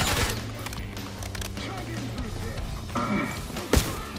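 Fire-spewing shotgun blasts in Call of Duty Black Ops 6 gameplay, a string of loud close shots and crackling impacts with one sharp heavy blast near the end, over busy game noise.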